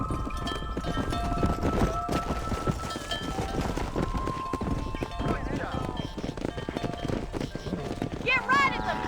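Horse hooves clop steadily as a wagon is driven down a road in Red Dead Redemption, mixed with the game's ambient sound and heard under continuous talking.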